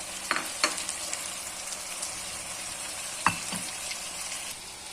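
Peppers and two large peeled, grated tomatoes frying in a pan for a creamy beef sauté, a soft steady sizzle with a couple of sharp utensil knocks and scrapes, close and fairly quiet, without voices.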